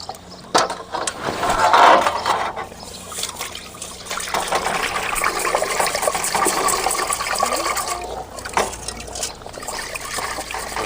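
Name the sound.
rinsing vermicelli in water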